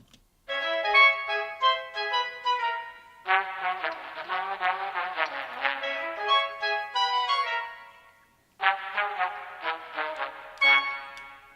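Trombones processed with vinyl software, playing harmonised phrases together with other instruments in a theme, in two sustained passages separated by a short pause.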